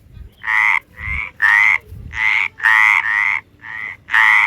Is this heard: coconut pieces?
no